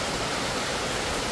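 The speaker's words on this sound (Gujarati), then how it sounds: "હા શાંતિથી વરસાદ આવે જો કેટલો શાંતિથી વરસાદ આવે" Steady rain and running water make a dense, even hiss, close and continuous throughout.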